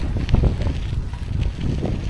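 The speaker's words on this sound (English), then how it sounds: "super headwind there." Strong headwind buffets the microphone of a cyclist riding along a road, a steady roaring rumble with gusty swells throughout, no talking.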